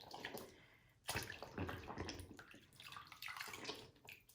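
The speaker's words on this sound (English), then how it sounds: "Put that in the water." Quiet sloshing and swishing of water as a dirty makeup brush is swirled through it, with soft splashes and trickles in uneven bursts.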